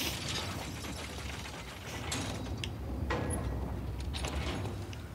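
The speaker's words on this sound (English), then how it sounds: "now crank the lever" A lever cranked to open a shortcut in Bloodborne gives a steady mechanical ratcheting and grinding with creaks, continuous for about five seconds at a fairly even level, with no talking over it.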